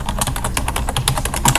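Rapid, continuous keystrokes on a computer keyboard while entering text into a Word SmartArt graphic, close and steady with dense clicking throughout and no talk.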